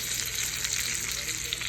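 Food sizzles and crackles steadily in butter in a frying pan, a loud, continuous close-up fry with no talking.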